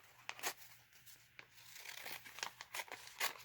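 Fabric being cut out for a snap pouch, a quiet close series of crisp snips and rustles from scissors and handled cloth, irregular and faint, no talk.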